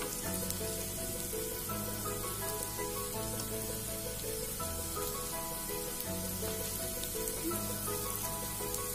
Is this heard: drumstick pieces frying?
yes